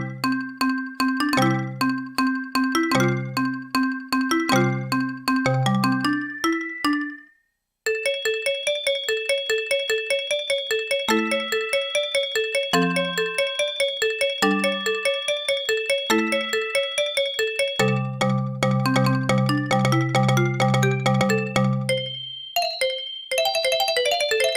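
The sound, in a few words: koto-like synthesizer sound with bells, ButterSynth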